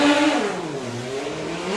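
A Kawasaki 1500 drag bike at Dragstalgia drag racing launches down the strip, its engine note rising as it pulls away and fades into the distance, heard alone over a steady roar.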